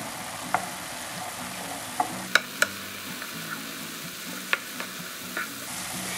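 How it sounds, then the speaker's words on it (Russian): Pide filling with ketchup, rosemary, salt, pepper and dried garlic being stirred in a bowl, soft scraping with a few sharp spoon clicks against the side, close and quiet with no talking. "Все это хорошенько перемешаю."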